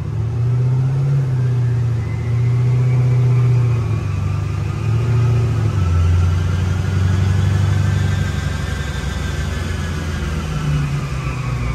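A car with a mild supercharged LSA V8 cruises at light throttle in sport mode, a steady low engine drone with rising and falling tones as it shifts through gears, continuous and fairly close.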